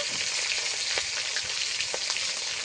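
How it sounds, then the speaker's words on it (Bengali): Bhola fish sizzles steadily in hot oil in a pan, a continuous bright crackle with occasional louder pops, close and moderately loud with no talking. "ভাজা হতে থাক"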